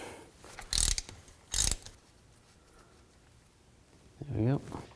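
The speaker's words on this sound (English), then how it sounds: "So just use a 3/8 extension and a ratchet." A 3/8 ratchet on an extension turns a differential fill plug on a 2000-06 Chevy Tahoe, giving two short, loud clicking bursts, then quiet, then a brief burst of speech.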